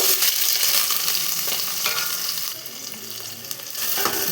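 Green chillies and chopped onions sauté in a hot pan, a steady close sizzle with stirring scrapes running alone throughout, briefly easing midway before swelling again.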